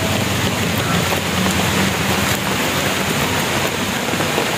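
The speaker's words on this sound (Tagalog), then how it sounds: "inaabot na tayo ng ulan" Steady, loud rain pours down outdoors beside a cleared patch of yard and an outdoor toilet, a dense unbroken hiss with no voices over it.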